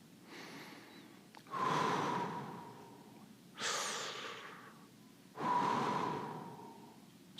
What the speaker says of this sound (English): Think about that breathing again.